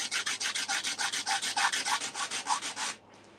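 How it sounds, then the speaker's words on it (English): Wood sanded by hand with quick, even back-and-forth rubbing strokes, about five per second, close and clear for three seconds before stopping. "I need to sand that one."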